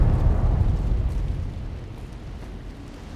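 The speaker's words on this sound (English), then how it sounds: "that explosion was nice" A warhead blast in the Fallout: New Vegas Lonesome Road DLC, heard as a heavy, loud boom that rolls into a long, slowly decaying rumble with no voices over it.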